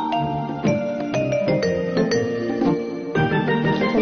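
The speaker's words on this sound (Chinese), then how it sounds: "然后我们把这些风铃固定在纸盘上吧。" Small wind-chime bells are tied onto a paper plate for a craft, and they ring in several bright, overlapping jingles with sustained metallic tones.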